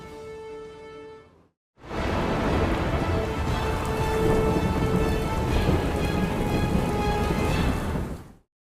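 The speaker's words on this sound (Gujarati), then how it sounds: "100થી વધુ તાલુકાઓ છે જ્યાં વરસાદ પડી રહ્યો છે" Steady heavy rain in Gujarat pours down continuously, a dense hiss drumming on surfaces, preceded by a brief tonal musical sting.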